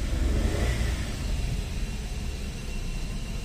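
A Maruti Wagon R car engine runs steadily after starting, a low continuous rumble heard from inside the car, even and moderately loud with no talk over it.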